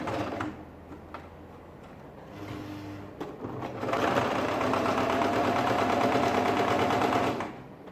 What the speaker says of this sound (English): I want to start sewing now